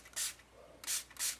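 Three short hissing bursts of homemade glimmer mist from a spray bottle, sharp and close, with brief quiet gaps between them.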